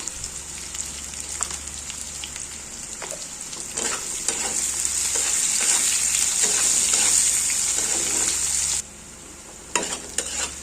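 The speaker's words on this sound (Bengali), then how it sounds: "পেঁয়াজটা তাড়াতাড়ি ভাজার জন্য আমি নুন দিয়ে দেবো" Thick-sliced onions with salt frying in a pan: a steady close sizzle that swells louder midway, with scattered scrapes and stirring clicks, and no voices.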